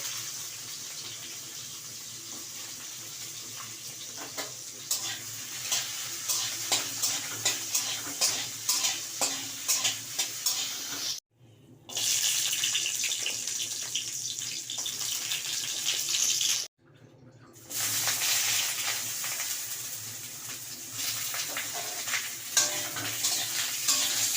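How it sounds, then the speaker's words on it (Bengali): Bitter gourd pieces fry in hot oil for Bengali shukto, making a dense steady sizzle. Rhythmic spatula scrapes and stirs run through it, the sound is close, there are two short silent gaps, and no one speaks. "প্রথমেই উচ্ছেগুলোকে উচ্ছেগুলোকে একটু লাল লাল করে ভেজে নিতে হবে"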